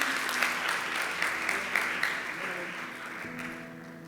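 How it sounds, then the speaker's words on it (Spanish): Congregation applause at a church Bible gathering, greeting a brother coming up to take the microphone: a dense, steady patter of many hands clapping, with a faint tonal hum beneath, easing slightly toward the end. "aplauso para el hermano"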